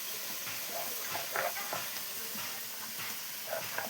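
Spices for a crab curry gravy sizzle and hiss in a hot pan with a continuous, fairly quiet frying sound and occasional stirring scrapes.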